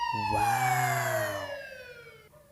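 A white toy police car wails with a siren sweep that rises and then slowly falls, loud and close for about two seconds, its harmonic tone tapering off at the end.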